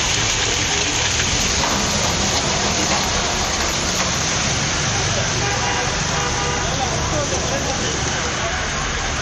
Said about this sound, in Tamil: புதுச்சேரியில் பகல் நேரத்தில் வெயில் வாட்டிய நிலையில் இரவு நேரத்தில் கனமழை கொட்டி தீர்த்தது.